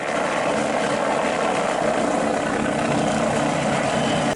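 A helicopter sound effect playing during the cleaning of a muddy toy helicopter, a steady, loud rotor whir that stays constant throughout without speech.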